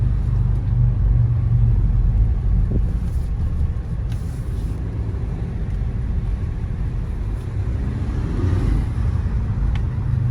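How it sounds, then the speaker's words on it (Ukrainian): Steady low engine drone from inside a moving 2017 Opel Zafira with 150,000 km, a continuous rumble with a slight rise in pitch toward the end as the motor revs up. "Мотор оберти бере добре."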